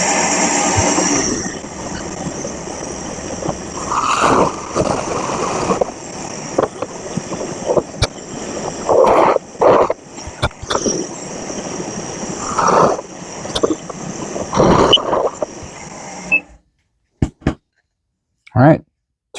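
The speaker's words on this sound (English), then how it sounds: "Bore 1/2 inch to 1 inch, spade bit," A Shopsmith bores 1/2 to 1 inch holes with a spade bit into a hardwood sacrificial board cut from an old cabinet mock-up. A steady motor drone swells into louder cutting bursts, then stops near the end.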